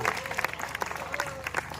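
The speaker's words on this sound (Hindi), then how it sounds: "जोरदार तालियां इनके लिए भी एक बार" Applause from an audience of NCC cadets and participants at an outdoor yoga session, a brief burst of clapping at moderate distance with a voice speaking over it and background hum.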